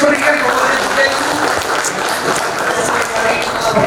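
Audience applause at the formal opening ceremony of a professional certification program for Hajj and Umrah pilgrimage guides in Indonesia, steady and dense throughout, with voices mixed in.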